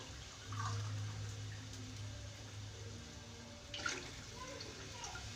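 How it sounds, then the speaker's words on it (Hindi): Water poured into a cooking pot of beef for a cauliflower and beef curry, a faint steady splashing and trickling stream that runs for several seconds with a small surge near the end, without talk. "ये मैंने पानी डाल दिया।"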